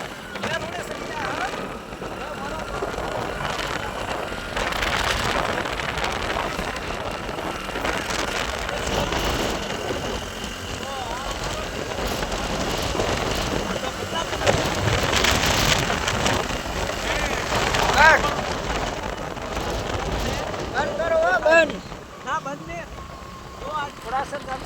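Rain falls steadily on a flooded road in Ghodasar, a constant hiss and patter of water with louder bursts partway through, while people talk over it.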